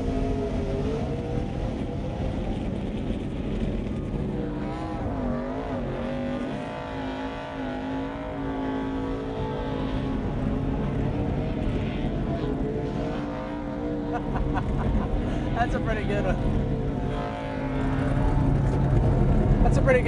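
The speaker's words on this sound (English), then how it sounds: "Pretty good burnout he's doing. He's still going." A race car doing a long burnout on a drag strip during a 2010 champion's week ride-along event, a loud sustained engine roar that swells and holds for the whole stretch, with people talking over it.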